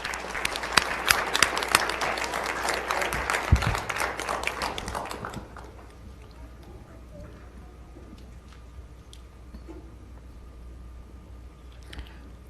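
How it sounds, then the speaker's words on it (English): At a school board of education meeting, the audience gives the junior high jazz band a round of applause. The brisk clapping lasts about five seconds, then fades into quiet room tone with faint shuffling. "let's give them one more round of applause"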